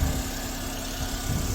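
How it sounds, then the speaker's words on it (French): A 2008 Honda Odyssey RB1 Absolute idles with a steady, even hum, the engine lightly revved with a small swell near the end, recorded up close on a phone. "j'ai juste un tout petit peu accéléré pour que vous puissiez éventuellement entendre le fait qu'il n'y ait pas de bruit"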